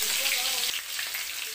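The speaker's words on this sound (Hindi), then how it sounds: "जीरा, इन सब को डाल दिए। देखिए कटी हुई हरी मिर्च," Cumin and chopped green chili sizzle in hot oil for a papaya curry, a steady close hiss of frying that fills the short clip without a break.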